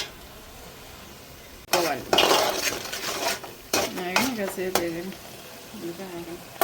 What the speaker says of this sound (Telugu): ఉల్లిపాయలాగే కొంతసేపు దోరగా వచ్చేలాగా వేపుకోవాలి.